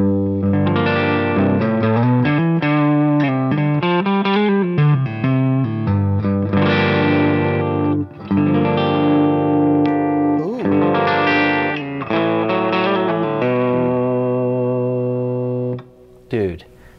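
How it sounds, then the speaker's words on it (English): A German Duesenberg Starplayer TV Custom electric guitar is played through effects. Loud, sustained, chorused and distorted chords and melodic lines ring out with reverb, continuously for most of the passage, then cut off near the end. "this is a Duesenberg. It's a German guitar."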